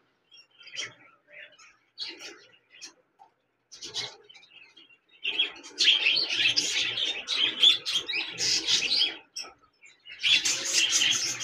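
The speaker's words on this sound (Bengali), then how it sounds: "একজোড়া বাজিগার পাখি রয়েছে, রানিং পেয়ার" A large breeding pair of budgerigars at a bird farm gives scattered short chirps at first, then bursts into loud, continuous chattering warbles that stop briefly and start again, close by and with no talking.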